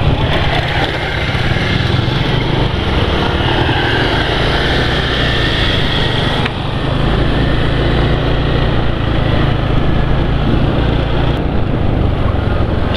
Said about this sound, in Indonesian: nanti kalau sudah jalan sepi penulis tunjukkan suara mesinnya bagaimana